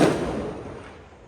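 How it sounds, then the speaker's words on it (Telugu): A single Diwali firecracker burst with a sharp crackling onset, then a decaying, noisy tail fading over about a second. "పోయిన సంవత్సరం తెచ్చిన బాంబులు ఈ సంవత్సరం కాలుస్తున్నామండి"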